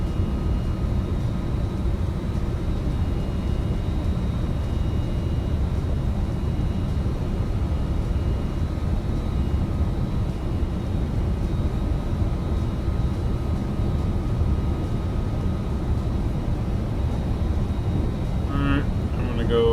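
A FedEx MD-11 cargo jet departs Oakland in the X-Plane flight simulator, its steady loud engine roar a continuous broadband rumble that holds evenly throughout with no voices.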